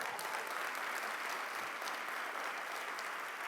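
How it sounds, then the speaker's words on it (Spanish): A church congregation applauds during a harvest first-fruits service, with continuous dense clapping from many hands sustained evenly throughout, with no voices standing out. "pues aproveche los aplausos para despertarse y espabilarse allí"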